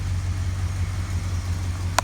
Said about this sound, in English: Got a good idle. Purrs very nicely.